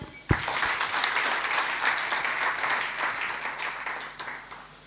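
Audience applause at a direct-selling seminar bursts in after a brief thump and holds as a dense, steady wash of clapping from a sizeable crowd for several seconds.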